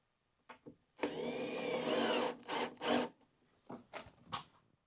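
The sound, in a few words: screwing a wall-mounted tool organizer into a stud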